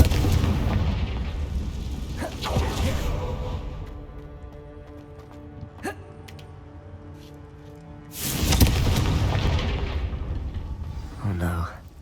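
A Confringo spell explosion in Hogwarts Legacy bursts loudly near the start, with a second heavy blast around the eight-second mark, amid rumbling game sound effects and brief spell sounds.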